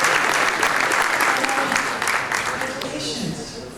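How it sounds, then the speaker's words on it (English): Warm audience applause at a school talent awards event, a dense sustained wash of clapping that stays loud and close before slowly tapering, with voices mixed in. "Let's give him a round of applause"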